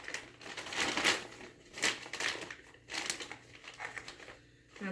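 Plastic bag from a Foley catheter kit crinkling and crumpling as it is handled, in several loud bursts of rustle close by with brief pauses between.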